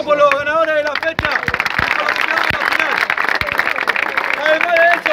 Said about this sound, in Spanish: Vamos a hacer un fuerte aplauso por los ganadores de la fecha